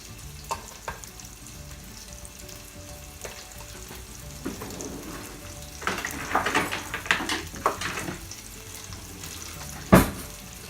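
Chopped garlic frying in about two spoons of hot oil for a fish and tomato masala, a soft steady sizzle broken by louder clinks and scrapes from a spoon working the pan, with a sharp knock near the end.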